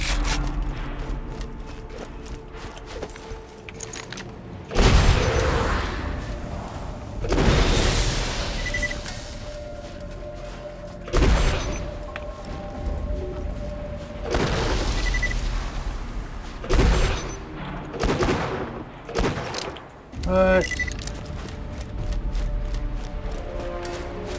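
Gunfire in Borderlands 2, with repeated loud broadband bursts of shots and blasts scattered across the stretch over a steady game backdrop of hum and mechanical tones, no talk.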